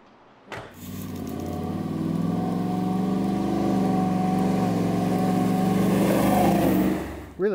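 An old restored and modified Ford truck engine rumbles and revs steadily for several seconds, a rough vehicle drone with some rattling, close and fairly loud.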